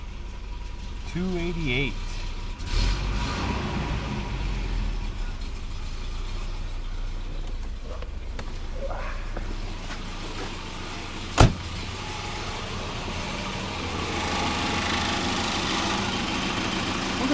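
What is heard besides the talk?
Volvo 240 engine starting and idling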